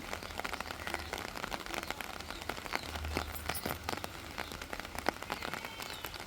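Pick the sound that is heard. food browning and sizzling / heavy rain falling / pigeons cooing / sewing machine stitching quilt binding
heavy rain falling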